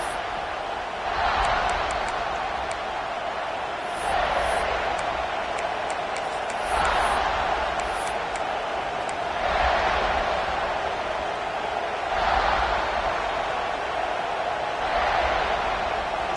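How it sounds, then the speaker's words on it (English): A big football stadium crowd at a college game gives a steady far-off roar that swells and dips in slow waves, with a few faint high whistles or shouts on top. "This crowd ready to make its presence known"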